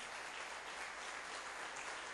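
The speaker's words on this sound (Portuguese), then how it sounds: "Dá um aplauso para o Senhor." A church congregation clapping for the Lord, a steady, dense wash of applause from many hands that fills the brief moment evenly without any voices standing out.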